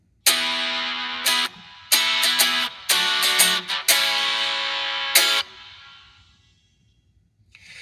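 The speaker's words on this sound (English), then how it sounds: "let's hear what the reverb sounds like if it's just the top end of the cabinet" Guitar chords played through a cabinet with only its top end, washed in reverb: several loud bright strums and short stabs, each ringing into a long reverb tail that trails off to near silence at the end.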